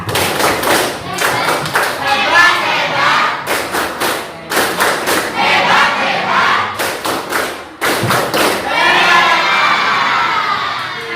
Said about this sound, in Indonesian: kita berikan tepuk hebat